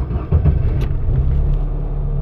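A car's engine is switched back on after its diagnostic codes were cleared, settling into a low, steady rumbling idle that stays close and fairly loud throughout, with no talk.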